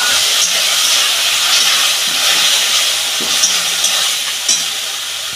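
Mustard-poppy paste goes into bitter gourd frying in a pan, giving a steady close hiss and sizzle with a few soft stirring clicks and no talk.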